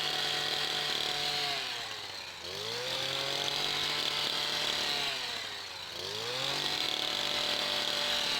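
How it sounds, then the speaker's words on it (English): A Stihl HS82 petrol hedge cutter trims the sides of an overgrown hedge, its engine droning loudly and steadily, twice dipping briefly in pitch before revving back up. "So here I'm using the Stihl HS82. I do prefer to use this cutter to do the sides of the hedges"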